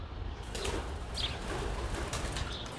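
Pigeons or doves near an abandoned school give soft low cooing with brief chirps and wing flaps, heard close over steady outdoor rumble and wind.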